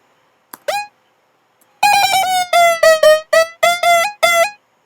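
A trap synth lead from Ableton's Analog plays a short pitch-bending blip, then a string of punchy gliding notes with vibrato, bright and loud with brief gaps between phrases.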